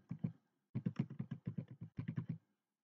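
A computer keyboard is typed on in quick bursts: a short pair of keystrokes, then two rapid runs of about a dozen close, crisp clicks, with no talking.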